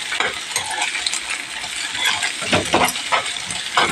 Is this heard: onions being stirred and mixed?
yes